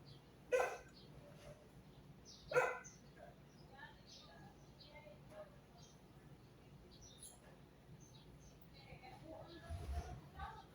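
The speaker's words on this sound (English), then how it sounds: "dogs barking, roosters crowing, and my cuckoo bird." Dogs in a neighbourhood in Ormoc City, Leyte, Philippines: two sharp barks about two seconds apart, at moderate distance, then faint bird calls and low background noise.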